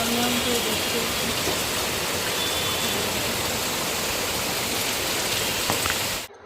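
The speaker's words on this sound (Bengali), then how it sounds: "এইগুলো ঝমঝম করে বৃষ্টি হচ্ছে।" Heavy rain pours down in a dense, steady roar that stays constant before cutting off abruptly at the end.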